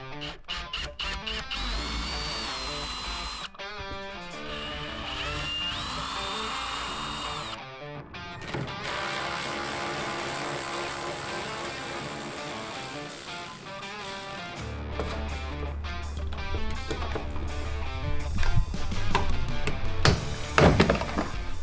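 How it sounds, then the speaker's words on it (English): A ratchet or power driver takes out mud flap screws while fitting fender flares, giving several whirring bursts broken by pauses, knocks and clicks, close and fairly loud with no talk. "I'm ready to take out these screws"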